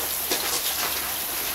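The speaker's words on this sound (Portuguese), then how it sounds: "Tá chovendo muito, ó." Heavy rain pours steadily outdoors during a cassava harvest, a loud, dense, continuous hiss of drops with no break.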